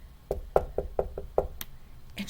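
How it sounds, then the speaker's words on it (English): Knocking on a church door: six soft, evenly spaced raps close by, followed by a few faint clicks and rustles, with no voices. "she knocked quietly"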